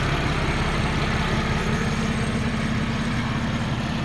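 A Buick 3800 Series 1 V6 engine idles steadily after an overhaul, without misfiring, with a smooth, even low rumble and hum that holds constant throughout, with no voices.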